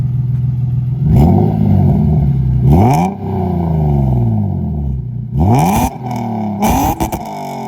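Lexus IS300 with a cat-back exhaust and deleted catalytic converters revving hard in several bursts, loud and close, the engine note rising and falling between blips.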